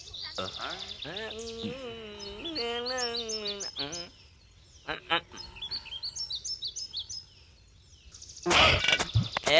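A myna bird sings in a dubbed Indian action film scene, with a run of warbling, pitched whistles followed by quick, bright chirps, a pause, then a louder burst of high twittering near the end.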